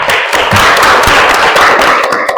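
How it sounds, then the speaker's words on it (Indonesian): Students in a classroom clap their hands for a classmate's group presentation, a loud, close, dense burst of clapping with a few sharper individual claps standing out, sustained for a couple of seconds. "Oke, tepuk tangan teman kita."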